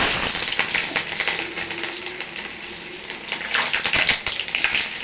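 Onions frying in a pan for a chicken curry, with mustard seeds and curry leaves, give a steady, close sizzle with crackling spikes and occasional stirring scrapes, and no talk.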